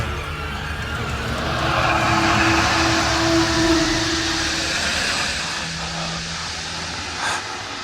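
A car brakes and pulls over to the roadside, then drives off in a radio drama effect: a loud engine and tyre noise that swells, holds and fades, with no talk over it.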